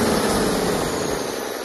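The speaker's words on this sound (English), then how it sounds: "Listen, engine startup sound" Used Cummins 6BT diesel engine running after startup on a test stand, a dense, steady mechanical roar close by with no talking.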